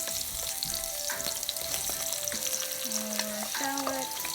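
Garlic hitting hot oil in a pan for pancit guisado, a close, steady sizzle and crackle with faint stirring and utensil taps, no voices over it.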